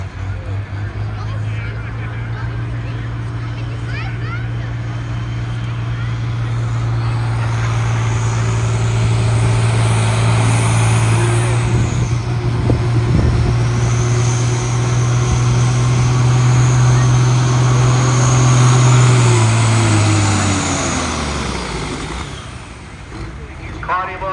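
A pulling tractor at a Light Limited Super Stock tractor pull in Cuba City drones with a steady, loud low engine tone that builds for about twenty seconds before winding down, under crowd babble and an announcer talking.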